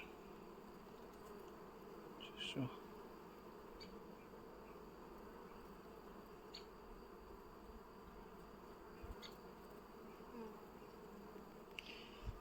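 A low, steady hum of a honeybee swarm buzzing, faint and continuous, with a few closer bees passing now and then.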